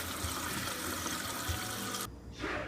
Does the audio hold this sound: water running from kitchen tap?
yes